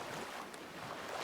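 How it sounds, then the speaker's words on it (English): Ocean waves in the video game Sons of the Forest, a continuous broad wash of surf and wind noise, steady and fairly close with no talking. "Waves are getting bad."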